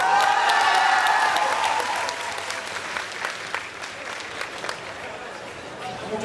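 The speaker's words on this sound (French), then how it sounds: "Applaudissements," A conference crowd at a manga convention breaks into applause, loud dense clapping that slowly fades into scattered claps with voices mixed in.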